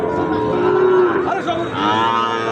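A Sahiwal bull calf moos, drawn out and fairly close, at a cattle market, with a second lowing call following a brief pause; faint background murmur of the market around it.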